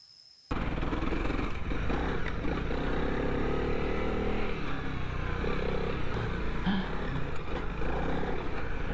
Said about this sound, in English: showing much more professional off-road riders taking this bike through its paces